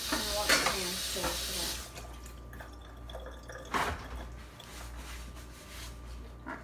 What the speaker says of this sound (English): I'm gonna wash my hands too.